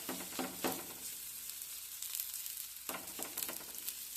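Rice rotti sizzles steadily in a little oil on a pan, a continuous close frying hiss broken by a few louder crackling bursts near the start and again later.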